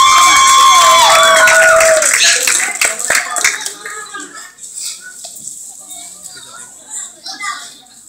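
Guests at a quinceañera clap, a burst of applause and crowd noise over an announcer's amplified voice, fading to scattered claps and chatter.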